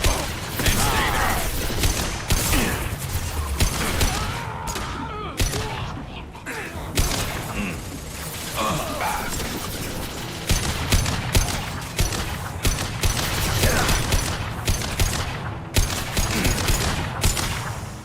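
Sustained gunfire in a shootout in Mass Effect 2 Legendary Edition, dense bursts of automatic and single shots with thuds and clanks, loud and continuous with brief lulls and scattered voices.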